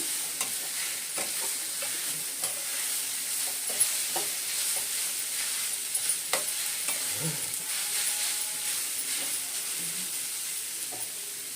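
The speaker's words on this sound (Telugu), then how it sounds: "కొబ్బరి వేసుకున్నాక కొంచెం ఇట్లా కలుపుకుందాం" Carrot rice with grated coconut is stirred in a pan, a continuous soft sizzle broken by frequent scraping clicks of the spoon against the pan, steady and close throughout.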